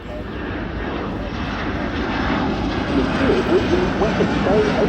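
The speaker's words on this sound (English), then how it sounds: "the Boeing Poseiden MRA-1 from number 120 Squadron at RAF Lossiemouth" A Boeing P-8 Poseidon MRA1 maritime patrol jet of 120 Squadron, RAF Lossiemouth, makes a flypast at an air show, its broad jet engine roar building steadily and staying loud throughout under a faint commentary voice.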